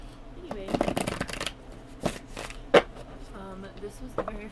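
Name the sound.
shuffling a tarot card deck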